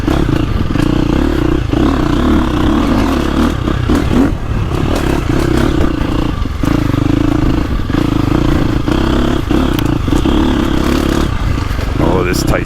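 KTM dirt bike engine, a 2024.5 450 Factory Edition or 2025 350 XCF with a quiet Akrapovic exhaust, lugging steadily in second gear with slipped clutch on a tight trail, a continuous near drone with clatter and brush scrapes.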